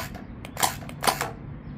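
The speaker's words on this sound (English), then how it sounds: "Let's see if we can fire some Orbeez." A Veeniix V997 RC tank fires Orbeez gel balls, giving two sharp, light snapping clicks about half a second apart over a faint mechanical whir, close by, with no talking.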